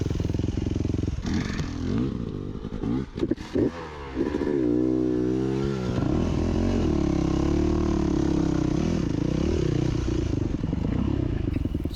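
Off-road motorcycle on a dirt trail, engine droning steadily with a few revs and drops in pitch, then settling into a sustained loud run close to the microphone, with wind buffeting throughout.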